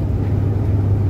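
A semi-truck passes a 1981 Ford Mustang driving through a winter storm, a loud, steady low engine and road rumble filling the cabin.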